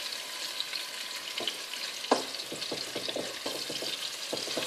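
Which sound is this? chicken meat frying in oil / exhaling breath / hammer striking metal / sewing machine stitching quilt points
chicken meat frying in oil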